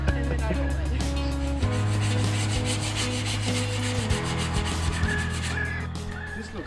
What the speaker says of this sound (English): It's getting pretty late, we're still sanding.